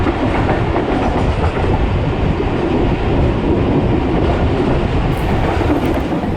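The Shalimar Express passenger train runs on rails out of Karachi, a loud, continuous rumble of wheels and carriages with a rattling clatter, heard from on board without talk.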